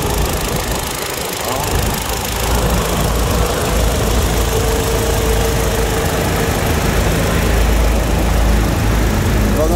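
A 2009 sedan's 1.6-litre engine idles with a loud, steady, close mechanical rumble and a fine ticking vibration that runs unchanged throughout, with no talk over it.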